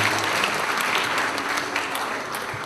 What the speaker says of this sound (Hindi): विशेष स्वागत जोरदार तालियों से आप सबों का होना चाहिए